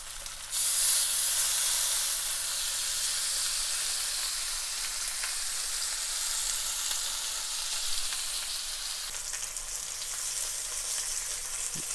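Oxtail beef pieces fry in a hot skillet, giving a loud, steady hiss and crackle of sizzling fat that carries on unbroken, with a faint low hum beneath and a slight surge near the start.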